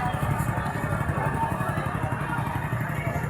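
A motorcycle engine idles after being started, a steady close chugging putter with a rapid even pulse throughout.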